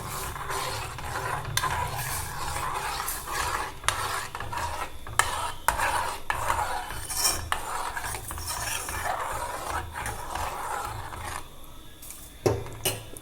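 Milk powder stirred into warm liquid for a bread milk cake, a run of close, rhythmic scraping and clinking of a spoon against the pot for several seconds, with no voices.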